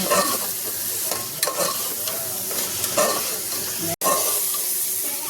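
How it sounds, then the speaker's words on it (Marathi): Peas and potatoes with coriander powder roast and sizzle in a pan, with steady frying hiss and repeated scraping stir strokes throughout, briefly cut off once near the end. "एक चमचा धने धने पावडर वटाणे आणि बटाटे आपण आता त्यामध्ये टाकायचे हे छान भाजून घ्यायचे"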